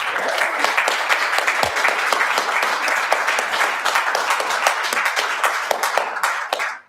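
Crowd at a city council meeting claps after a public comment, a dense burst of many hands holding steady for several seconds before cutting off abruptly.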